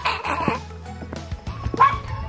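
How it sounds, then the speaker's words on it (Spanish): A dog barks a few times in quick, uneven bursts over a low background hum, in rural El Cedral, Vereda de Tello, Huila. "El perro no para de ladrar."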